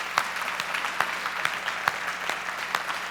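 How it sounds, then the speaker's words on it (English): Applause from the audience at the United Way of Cass-Clay Live United Awards, a sparse, moderate patter of scattered claps with a few sharper individual hits, fairly steady throughout and with no talking. "So let's give BNSF Railway a round of applause"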